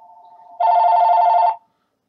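Telephone ringing close and loud in one sustained electronic trill, preceded by a softer steady tone and followed by silence.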